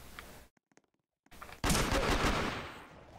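Gunfire in the video game Headcrab Infection: a loud burst of rapid shots erupts after a few faint clicks and silence, then sustains as dense close-range firing before easing off.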